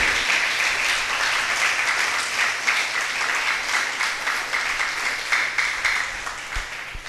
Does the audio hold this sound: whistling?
no